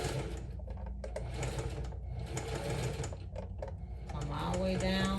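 A sewing machine runs in a steady rapid whirring stitch with brief pauses, stitching a quilted crossbody handbag close by, with someone talking faintly over it.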